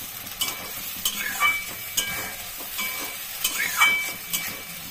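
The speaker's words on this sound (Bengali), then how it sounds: "এই পর্যায়ে ভাজার সময় আমি টমেটোটা দিয়ে দিচ্ছি" Chopped tomato hits hot oil with fried onion and cumin, giving a steady bright sizzle and hiss, while repeated scraping stirs come every second or so, close and fairly loud with no talking.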